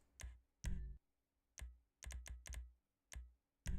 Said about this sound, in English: let me update what I was typing